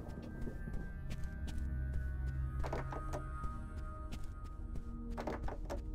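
A stuck door rattles in the video game Final Fight Streetwise, giving several short knocking jolts in small clusters over a low, steady background hum.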